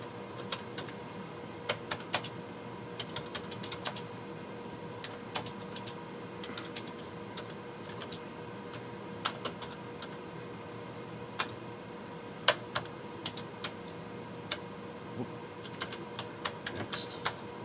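Fingers typing a program on a Commodore VIC-20 computer keyboard, a steady run of quiet, close key clicks with uneven rhythm over a faint constant hum.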